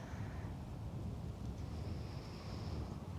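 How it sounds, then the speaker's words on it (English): Wind blows outdoors during an open-air yoga session, a steady low rushing buffet across the microphone that stays constant throughout with no talk. "That wind feels good."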